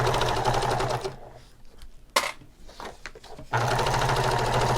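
A sewing machine stitches a purse, running in fast, loud, steady bursts at close range, stopping briefly in the middle for a pivot at a corner with small handling clicks before resuming.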